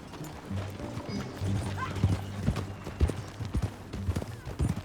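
Horse hooves clip-clop at a steady walking rhythm in Red Dead Redemption 2, close and fairly loud over a low background hum, with a brief whinny near the start.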